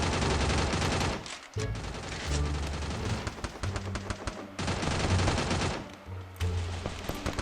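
Gunfire in the battle royale video game Free Fire, dense rapid bursts of automatic shots nearly filling the whole stretch, with brief gaps and close, loud impacts.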